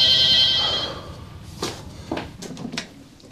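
An office telephone rings briefly at the start, a bright electronic trill that fades, followed by soft handling clicks and rustles as it is picked up.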